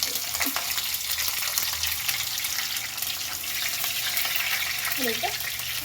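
Green chillies added to dried red chillies in hot oil, frying with a steady, close broadband sizzle that runs throughout, with a few brief clinks and stirring sounds.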